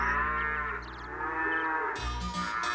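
A cow moos in a long, loud, low drawn-out call in a Super Mario Bros cartoon, with a short musical chime near the end.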